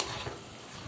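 Soft, faint sizzle and stirring of grated coconut and semolina frying in a wok for laddu, a quiet continuous crackle with light scraping.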